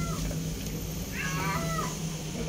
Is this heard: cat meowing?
yes